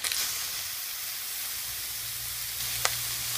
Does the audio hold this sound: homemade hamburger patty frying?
yes